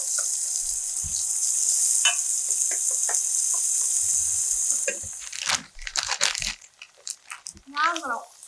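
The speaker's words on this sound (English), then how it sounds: "So this is to get the goods frying." Loud steady sizzling of onions frying in a hot skillet fills the first half, then fades as someone begins talking over scattered clinks.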